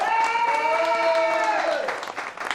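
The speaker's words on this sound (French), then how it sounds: "Je pense qu'on peut applaudir bien fort Laura et Mélanie, mes deux assistants." Audience at a magic show applauding, steady clapping heard under someone speaking over a microphone, then tapering off.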